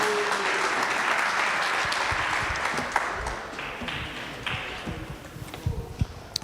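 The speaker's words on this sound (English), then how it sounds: "Let's give him a round of applause" A hall audience applauds at a village government State of the Village address. The dense clapping is loud and sustained at first, then thins into scattered individual claps and dies away toward the end.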